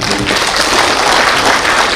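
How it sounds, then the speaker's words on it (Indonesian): An audience at an Indonesian independence anniversary event breaks into loud, close, dense applause, with steady clapping filling the short stretch from start to end. "Tepuk tangan dulu."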